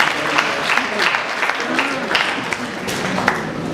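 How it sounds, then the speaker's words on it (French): Loud, sustained applause from an audience at a World Book Day celebration, a thick wash of many clapping hands running continuously throughout. "je vous demande de les applaudir"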